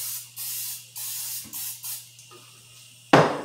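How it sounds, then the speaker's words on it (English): Several short hissing spray bursts in a row over a low steady hum, then a louder, sharper sizzle at the end. "So I'm going to spray it in here."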